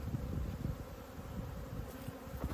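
Honey bees buzz steadily around an open beehive, a dense close hum with flickering wingbeats from many insects, continuous and fairly loud with no voices.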